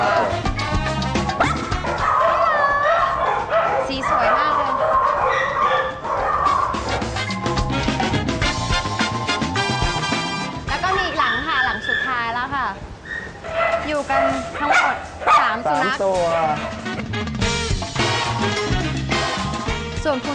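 Two male fox terriers and a poodle barking loudly and repeatedly, with yips and whimpers mixed in, while people talk over them.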